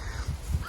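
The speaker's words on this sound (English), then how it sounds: "you can hear birds. Those are crows" Crows caw repeatedly outdoors near a chicken coop as a storm approaches, harsh calls rising over a steady wind-like rumble, moderately loud and alone without speech.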